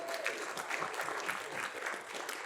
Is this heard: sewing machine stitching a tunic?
no